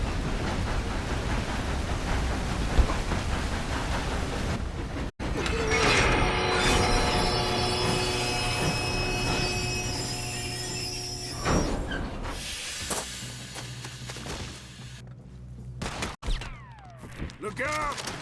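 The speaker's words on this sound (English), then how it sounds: "We have to stop this train" A moving train in the Red Dead Redemption 2 video game, a steady loud mechanical rumble with hiss and clanking, scattered shots and a voice talking over it.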